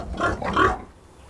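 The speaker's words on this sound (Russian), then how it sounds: "Тут у нас свиньи." Young pigs in a pen on a village farm give a couple of close, loud grunting oinks in quick succession, then quiet down.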